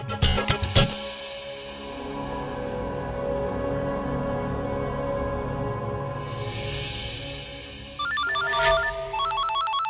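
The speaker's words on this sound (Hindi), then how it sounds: "उसका फोन आ रहा है।" A mobile phone rings with an incoming call indoors, a bright electronic ringtone playing steadily and fairly loud, joined near the end by a higher, different melodic tone; no voices over it.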